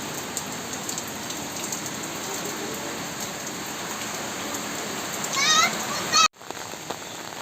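Steady rain falls on plants and a pond outdoors, a dense even hiss throughout, with a brief voice near the end and a short cut before the rain resumes.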